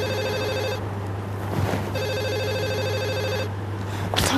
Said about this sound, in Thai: ขอตัวนะคะรับโทรศัพท์แป๊บนึง